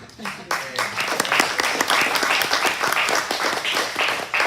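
A church congregation claps steadily after the chorus and music at a Sunday service, with many hands applauding together continuously from start to finish.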